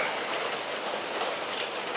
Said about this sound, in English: if I'm distracted, it's because of the rain